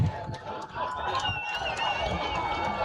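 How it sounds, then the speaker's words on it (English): Home crowd at a high school football game, Olentangy Orange against Olentangy Berlin, swelling into a steady roar before a third-down snap, with a commentator talking over it throughout. "Hear the crowd getting loud."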